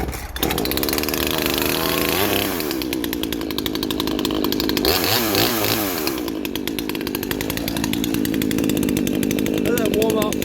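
Husqvarna 236 X-Torq or Farmertec G382 chainsaw running in a wood yard among hardwood, a loud close buzzing two-stroke whine that revs up and down in surges throughout.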